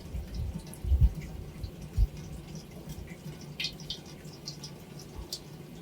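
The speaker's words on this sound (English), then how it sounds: "the finished maple syrup is dripping down into the filter" Finished maple syrup drips into a filter in faint, irregular patters over a quiet background hum, with a few slightly louder drops early on.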